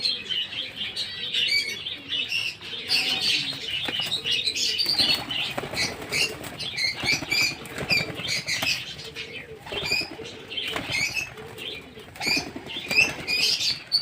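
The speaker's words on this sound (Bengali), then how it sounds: "এই যে আটটি পায়রা ছাড়লাম" Eight young pigeons are released outdoors and take off, their wings flapping in repeated bursts with scattered chirps as the flock climbs overhead.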